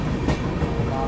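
The North East Express on the Delhi to Patna run rolls along at speed in a brief, steady, close rumble of wheels and carriages, with a voice faintly present.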